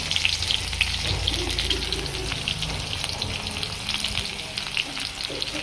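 Onions frying in a pan for a chicken curry made without garlic, giving off a steady, close hiss and sizzle that holds evenly throughout with light bubbling crackle.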